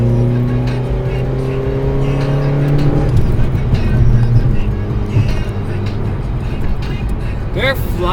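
Car engine revving hard while chasing a truck, the engine note dropping with a gear change partway through, then a rougher loud roar with road noise, under a voice talking.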